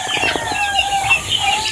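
A High Action Spangle rooster in a small backyard poultry pen clucks in a few short, close, repeated bursts, with no one talking over it.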